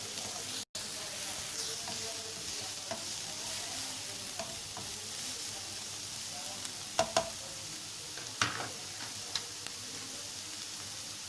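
Samosa filling of chicken and vegetables fries in a pan with a steady, soft sizzling hiss, broken by a few light ticks and taps of a spoon toward the end, close and fairly quiet.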